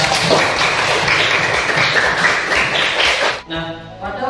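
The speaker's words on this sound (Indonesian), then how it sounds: "Tepuk tangan buat saya." A room of students bursts into loud, dense clapping for a classmate during a school lesson, the applause sustained for several seconds before cutting off abruptly.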